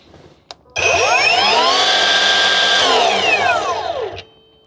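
An Evolution R255SMS-DB-LI cordless mitre saw: a small click, then the motor ramps up gently in a soft start, whines steadily for about three seconds, and winds down quickly under its electric brake. The sound is loud and close, with no talking.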